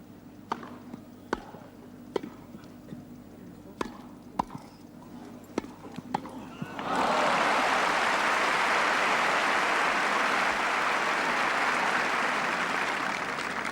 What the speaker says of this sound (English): Almost every point, every rally has brought forth a tremendous burst of clapping.